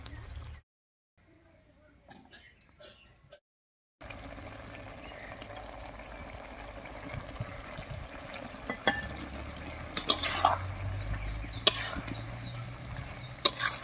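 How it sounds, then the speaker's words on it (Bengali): Fried small river fish go into a pot of boiling water: a brief hush, then a steady bubbling, watery simmer with a few louder splashes and clinks as the fish drop in. "এবারে ভেজে রাখা মাছগুলো দেব।"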